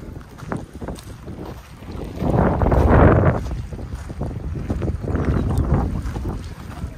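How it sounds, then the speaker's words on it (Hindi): Cold wind gusts across a beach in Hyderabad, buffeting the microphone with rumbling, uneven blasts that swell to a loud surge midway and then ease back to a steady roar. "ठंडी हवा चल रही है"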